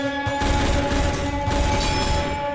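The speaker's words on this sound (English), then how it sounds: "Why is this semi-auto? Oh, wait, this is a burst gun" The AN-94 Death Stalker burst rifle firing in a video game, loud and dense, with rapid repeated gunfire crackling continuously through the whole stretch over a steady tonal game background hum.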